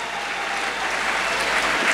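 Sustained applause from a crowd gathered at a church funeral service, a dense steady clatter of many hands that holds level and swells slightly toward the end.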